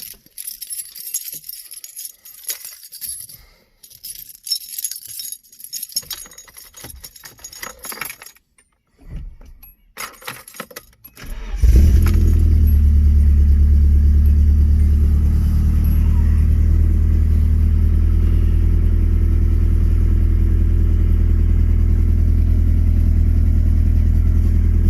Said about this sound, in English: I'll give it a quick start for you.